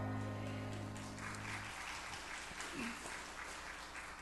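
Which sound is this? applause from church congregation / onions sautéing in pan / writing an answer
applause from church congregation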